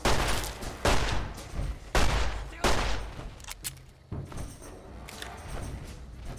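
Gunfire from a weapon in Fallout 3/New Vegas (Tale of Two Wastelands), several loud, sharp shots spaced about a second apart, followed by quieter clicks and mechanical rattles.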